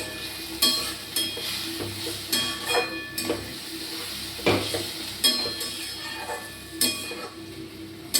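Leafy greens cooking in a pan after water is added, a soft bubbling simmer with a faint hiss, punctuated by irregular metallic scrapes and clinks of a utensil against the pan.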